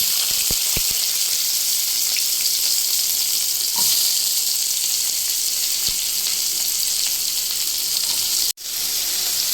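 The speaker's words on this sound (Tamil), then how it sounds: "இப்போ நம்ம அதுக்கு எண்ணெய் ஊற்றிக்கலாம் வெங்காயத்தை போட்டுக்கலாம்" Onions frying in oil for an egg curry give a steady, close hiss of sizzling with a few faint clicks and stirring touches, then a brief sharp drop near the end before the sizzle resumes.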